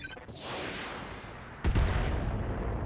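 A Rocket 15 launcher fires in the mech combat game RogueTech: a single loud, sharp blast arrives abruptly after a stretch of rushing hiss, then a heavy low rumble rolls on beneath it.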